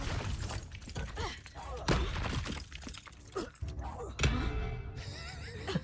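Confringo spell blasts in Hogwarts Legacy, a string of sharp explosive bursts and crackling impacts with shattering debris, loud and close, followed by a ringing magical tail.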